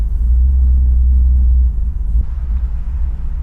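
A classic car's engine rumbling deep and loud at idle, then easing off as it is put in gear, leaving a lighter steady hum.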